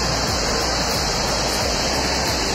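Curug Gobang waterfall roaring loud and close, a steady broadband wash of falling water with no voices over it.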